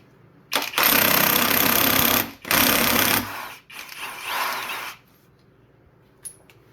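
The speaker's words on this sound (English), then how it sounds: "It's a 21mm. It's going to use an impact." Impact wrench loosening the 21mm crank pulley bolt on a 2013 Ford Edge 2.0 turbo engine during teardown: three loud, close rattling bursts of hammering, the last one softer, then quiet.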